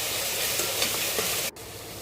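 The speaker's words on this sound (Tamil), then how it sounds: "ஸோ இஞ்சி பூண்டு பேஸ்ட்டு சேர்த்து மறுபடியும் மிக்ஸ் பண்ணி விட்டுடலாம்." Ginger garlic paste and onions sautéing in hot oil for a chicken gravy, a steady close sizzle with faint stirring scrapes, briefly cut off near the end before resuming.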